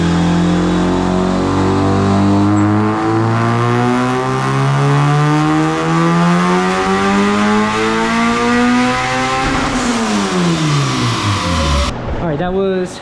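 A high-compression turbocharged Honda D16 in a hatchback, running ethanol with the boost turned up, revs hard on a dyno with loud climbing engine sweeps. The revs fall back near the end, then briefly rise again.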